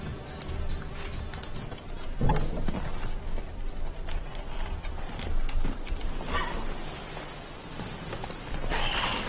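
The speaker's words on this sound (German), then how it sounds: "Das Pferd steht da im Weg." Horse hooves in The Witcher 3 game: irregular clopping and shuffling steps close by over a low game ambience, with one heavier thud early on.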